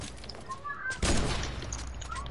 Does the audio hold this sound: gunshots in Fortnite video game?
yes